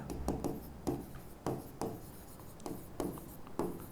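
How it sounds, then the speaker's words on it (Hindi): A sentence is written by hand on a board during a chemistry lesson, in a run of close, rhythmic scratching strokes with short pauses between letters. "सेंटेंस लिखता हूं यहां पर"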